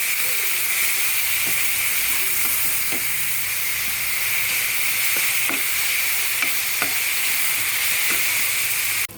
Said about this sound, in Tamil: வெங்காயம் நல்லா வதங்கி வரட்டும் நம்மளுக்கு